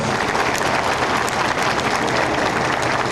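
A crowd gives sustained, vigorous applause at the opening ceremony of a weaving factory in Kepez, the clapping dense and steady throughout without a break.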